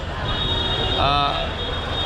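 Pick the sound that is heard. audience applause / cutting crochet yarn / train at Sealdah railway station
train at Sealdah railway station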